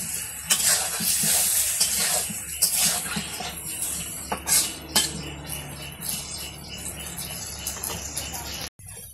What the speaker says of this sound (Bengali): মাছগুলো কষিয়ে রান্না করবো।